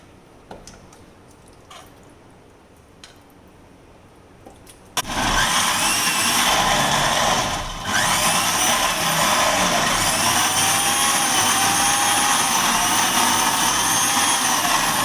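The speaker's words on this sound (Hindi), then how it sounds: "अब हम इसका मिक्सर में डाल के अच्छे से पेस्ट बना लेंगे।" A mixer grinder starts abruptly and runs loud and steady, whirring as it grinds a cooked onion and cashew mixture into a fine paste, with a brief dip in pitch partway through and no talk.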